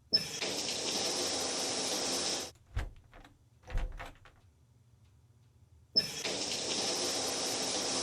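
Rushing tap-like water from the snowy detective game White Wolf of Icicle Creek, gushing steadily, cutting off into near silence with a few knocks, then starting up again just as loud.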